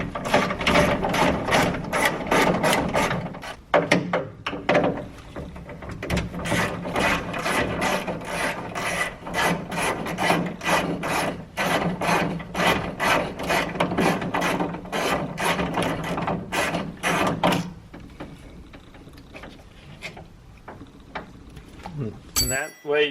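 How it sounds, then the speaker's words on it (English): A ratchet wrench loosens 10 mm bolts on the trunk actuator of a 2011-2013 Hyundai Sonata Hybrid, producing rapid, close, rhythmic clicking bursts in repeated runs that thin out near the end. "We've got two number 10 bolts to undo."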